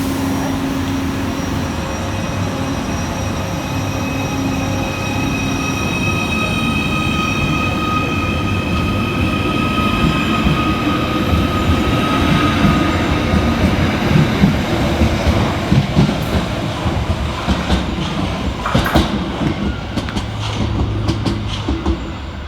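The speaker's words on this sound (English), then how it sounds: "Next out to depart is 777 140, working the slightly delayed 1445 Merseyrail electric service from Liverpool Central" A Merseyrail Class 777 electric train pulls away from a station platform, its electric motor whine and hum building steadily, then wheels clattering and clicking more busily as it gathers speed nearby.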